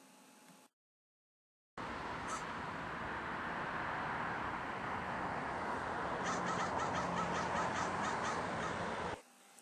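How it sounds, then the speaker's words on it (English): Crows caw repeatedly over steady roadway traffic noise on a cold, icy winter day in Calgary, with the calls fairly close and clear above the broadband hum. "The crow is a year-round species"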